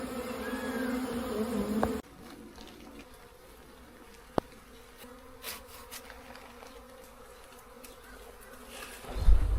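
Honeybees buzz around a hive hanging from a tree during an attempt to capture an escaped queen, a constant close droning hum with a few louder passes and handling knocks, and a rustle at the end.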